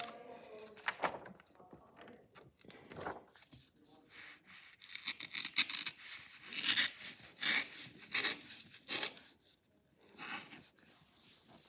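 Sheet of origami paper torn by hand along a folded crease, heard as a series of irregular ripping and rubbing bursts, some louder than others, close up with no talk.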